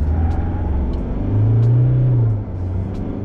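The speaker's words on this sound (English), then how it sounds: "if you give it a really good kick, it'll spin the wheels" A pickup truck launches hard off the line, its engine swelling into a loud, close rumbling roar for about a second before easing back, with no voices.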